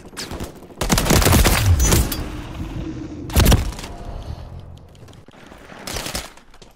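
Call of Duty MW3 beta team deathmatch gunfire including SMG shots, with two loud sharp bursts of rapid fire and a smaller later volley between quieter game sounds.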